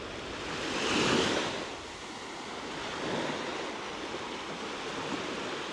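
Sea waves wash ashore on a beach in southern Corsica in broad, hissing surges, one swelling louder then easing, with a steady roar of surf and wind after a night storm.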